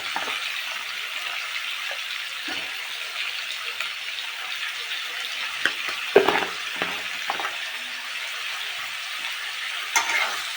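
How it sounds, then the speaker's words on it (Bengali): Potatoes frying in hot oil with a bay leaf give a steady, hissing sizzle, broken by a few soft scrapes and clinks of stirring near the end. No one speaks. "এবার এই আলুগুলো দিয়ে ভালো করে ভেজে নেব।"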